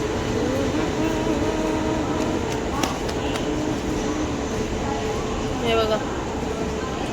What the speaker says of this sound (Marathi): हे बघा ट्रेन चालली आहे. AC ट्रेन आहे.